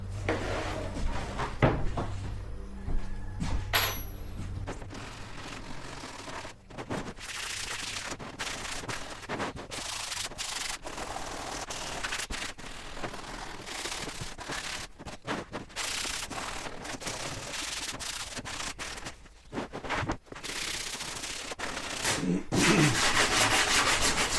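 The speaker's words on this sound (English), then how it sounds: "We're going to sand these edges, just kind of knock it down." An 80-grit sanding block rubs back and forth along jagged cut edges of a plastic door panel for a custom 1934 Ford, a steady close scraping that continues throughout with no talk.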